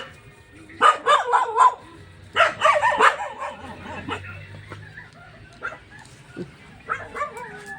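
Several dogs bark in a forest, two loud clusters of rapid barks up close followed by fainter scattered barks and yips further off.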